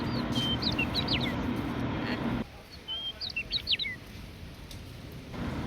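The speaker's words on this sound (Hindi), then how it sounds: "और आपको चिड़ियों की चहचहाट भी सुनाई दे रही होगी," Small birds chirp in quick, high tweets in the morning, a few bursts in the distance over a soft background hiss, near Jim Corbett in India.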